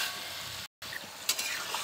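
Liquid for a curry sauce poured into a hot frying pan, giving a close, steady sizzle and bubbling with a brief stir and a light utensil clink, no talk.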